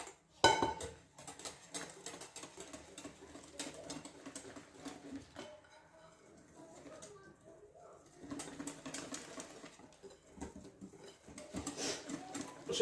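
Orange cake batter is mixed in a bowl, with steady clinking and scraping of utensil against the bowl over a soft background, pausing briefly midway and then picking up again.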